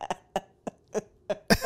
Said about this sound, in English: You coughing from the bottom of your feet.